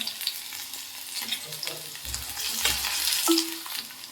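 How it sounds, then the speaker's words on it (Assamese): Onion, ginger, garlic and green chili frying in a wok crackle and sizzle continuously while a spatula stirs and scrapes the pan in irregular clatters, close and with no voices. "কেৰাহীত অকণমান আদা নহৰু থেতালি লোৱা পিঁয়াজৰ লগত জলকীয়া দি পেলাই ভাজিছোঁ"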